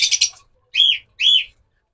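Opaline lovebirds chirp at close range: a quick burst of three or four high, bright chirps, then a pause and two longer rising-and-falling calls, each set apart by quiet.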